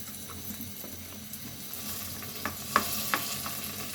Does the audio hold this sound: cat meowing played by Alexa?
no